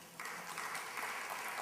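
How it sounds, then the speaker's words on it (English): An audience at a spiritual discourse breaks into applause, a steady wash of many hands clapping that starts abruptly and carries on at a moderate distance, with no talking over it. "Please clap for him."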